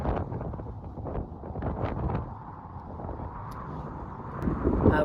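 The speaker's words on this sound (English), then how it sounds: "the wind begins to rise and the weather takes a turn for the worse" Wind rises across an airfield where light Auster aircraft are being refuelled, buffeting the microphone with gusty, uneven rushing and rumbling that swells toward the end.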